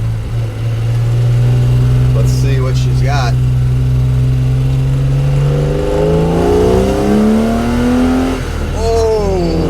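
A classic BMW E9 coupe fitted with an E34 M5 S38 straight-six pulls away from idle and accelerates hard, its loud rising engine note climbing through the revs with a brief gear change, while a driver speaks briefly early on.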